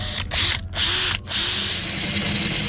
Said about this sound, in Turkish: Deldiğimiz malzeme krom olduğu için